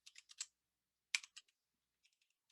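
Quiet, close computer keyboard typing in short bursts of crisp key clicks separated by silent gaps, with a few faint taps trailing off at the end.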